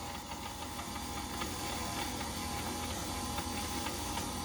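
A KitchenAid stand mixer churns bread dough at low speed, a steady motor whir with a faint rhythmic ticking knock, continuous and close with no voices.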